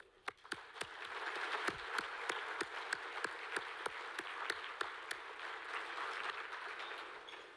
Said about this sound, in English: Please join me in applauding in advance all the students we will meet